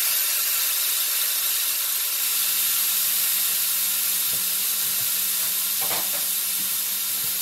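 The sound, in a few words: stirring tomatoes in a sizzling pan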